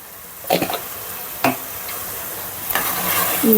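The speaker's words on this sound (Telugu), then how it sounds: "మొత్తం రొయ్యల్లోనే ఆయిల్ ఇది ఒక ఫైవ్ మినిట్స్ బాగా ఫ్రై అవ్వాలి" Prawns fry with gongura leaves in a pan, giving a soft steady sizzle broken by a few sharp scraping stirs of a utensil against the pan.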